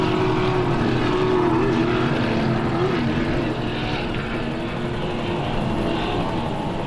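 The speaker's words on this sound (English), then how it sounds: "Let's listen to those big V8s as they charge away" Big V8 engines of an offshore superboat roar steadily as the boat charges away during a race off Mackay, Queensland, a loud, continuous droning rumble that stays strong throughout.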